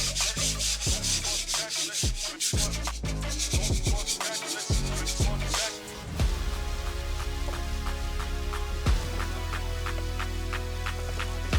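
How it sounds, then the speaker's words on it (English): Close, loud sandpaper rubbing on Notch X Max fender flares for a Jeep Cherokee XJ in quick back-and-forth strokes, a rough scratchy rasp that keeps a steady rhythm throughout. "We are part of the way through sanding."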